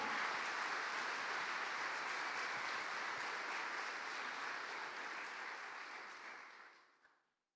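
A church congregation applauds in praise during a Spanish-language worship service; dense, steady clapping fills the room for about six seconds, then thins and fades out at the end.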